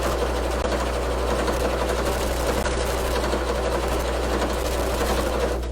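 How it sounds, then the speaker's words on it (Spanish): A sewing machine stitches a decorative flower stitch along a seam of a glasses case. It gives a steady, loud mechanical whirr with a low motor hum throughout, close and uninterrupted, with no voices. "nos vamos a ir por la costura haciendo una puntada decorativa"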